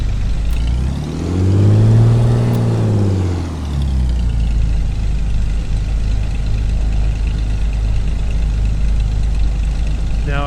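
A simulated Black Square Commander 114 aircraft piston engine in Microsoft Flight Simulator idles low, then revs up briefly and settles back to a steady rumbling idle.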